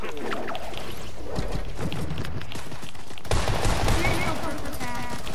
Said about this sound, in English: Legendary tactical shotgun